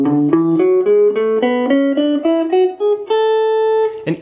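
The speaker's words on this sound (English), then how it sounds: "Now the major scale sounds like this" A guitar plays a major scale: eight notes rise steadily one after another, with the final note held and ringing out alone.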